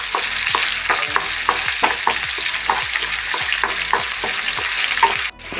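Finely chopped ginger and green chillies frying in oil in a pan, a steady close sizzle with repeated rhythmic scraping strokes of a stirring spoon, no voices.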